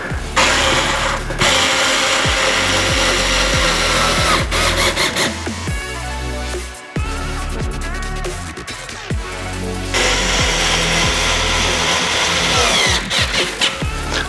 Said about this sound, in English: So we're ready to screw that back in now